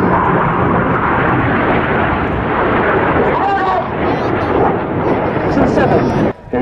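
Aerobatic display jets trailing smoke roar past at the Shuttleworth season premiere airshow in May 2016, a loud, continuous broadband rumble with a commentator talking over it throughout.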